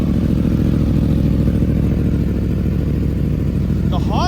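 Honda CBR1000RR or Yamaha R1 sport bike engine idling loudly and steadily nearby, not yet warmed up, a constant rumbling drone throughout with a person speaking over it near the end.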